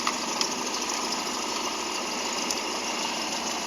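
A running engine, listened to through a mechanic's stethoscope during a valve clearance check for knocking and vibration, gives a dense, steady mechanical whir and hum, loud and close, with faint periodic ticks and no talk.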